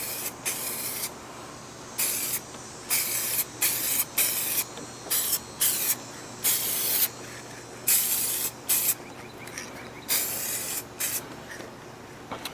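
Spray paint hisses onto a clear Lexan RC car body for a light first coat, in about a dozen short, even bursts with brief pauses between, close and steady.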